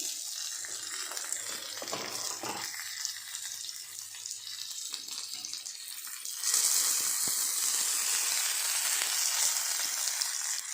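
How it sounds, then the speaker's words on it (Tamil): Fish fries in a pan with a steady, close hiss of sizzling oil that grows louder and brighter partway through, with no talk. "அதை போட்டு ஃப்ரை பண்ண போகிறோம்"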